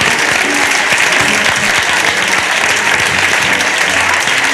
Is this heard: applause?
yes